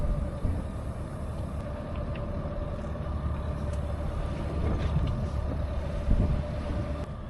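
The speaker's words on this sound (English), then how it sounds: "We got the sail up just to keep steady." A sailboat runs under sail at sea at night, giving a steady low rush of wind and water with a faint continuous hum, some wind buffeting on the microphone and a few soft knocks, and no voices.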